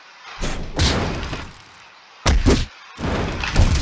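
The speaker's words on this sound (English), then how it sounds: "Next normal is down, which is just a ground pound" Zetterburn's down normal ground pound in Rivals of Aether lands as two heavy, booming slams about two seconds apart, each with a thick thud and a crashing tail, loud and close.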